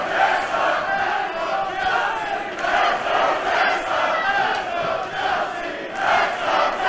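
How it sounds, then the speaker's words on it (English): A large live crowd at a wrestling match roars and cheers without pause, loud and dense, with chanting swells rising and falling throughout. "Seems to me that the crowd split right down the middle, cheering for both women."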